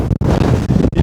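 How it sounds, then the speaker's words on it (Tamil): Strong wind buffets the microphone at a hilltop Murugan temple in Tamil Nadu, a loud continuous roar with brief lulls between gusts and no voices. "எங்கேருந்து இவ்வளோ காற்று வருதுன்னு தெரியல."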